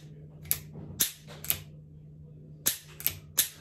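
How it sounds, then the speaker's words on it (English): Pietta Great Western II single-action revolver being dry fired, giving sharp, close metallic clicks and snaps: a cluster of three in the first second and a half, then three more near the end, with quiet gaps between. "I'm gonna do a few dry fires just to get a feel."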